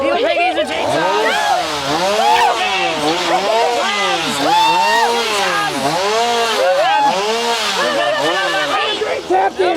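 A chainsaw revs loudly in a haunted schoolhouse attraction, its engine whining in repeated rising and falling surges close by for the full duration, with frightened voices talking and shouting over it.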